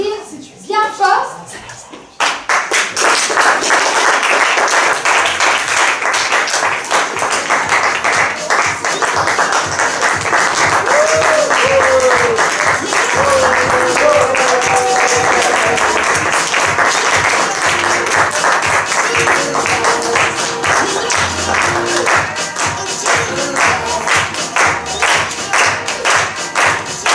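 A large audience claps loudly and steadily for improv players at a youth improv show, sustained applause lasting over twenty seconds with scattered cheers and voices mixed in.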